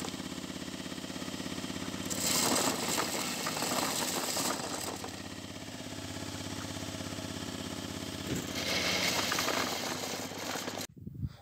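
A corn sheller machine runs with a steady mechanical drone and busy rattling, swelling into louder clattering bursts as corn is fed through, then cutting off abruptly near the end, with no talk.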